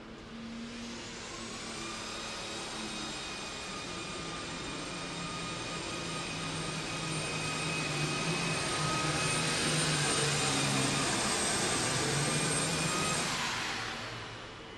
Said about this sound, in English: I think that tractor could run it just a little bit better than that.